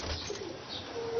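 Pigeons coo softly in a breeder's loft, a low murmuring call heard close by over a gentle, continuous background hum.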